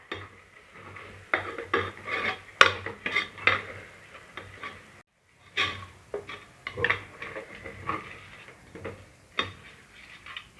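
A spoon scrapes and clinks against a pot while masala of cumin powder, chilli powder and salt is stirred and sautéed for chicken biryani, irregular close taps and rasps with brief pauses and no talking.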